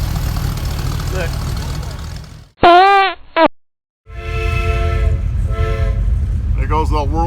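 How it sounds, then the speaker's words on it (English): A train-whistle horn fitted to a custom car at a rod run cruise night blows two loud warbling multi-tone blasts, then a short series of higher whistle hoots over idling engines and crowd noise. "There goes the world famous train whistle"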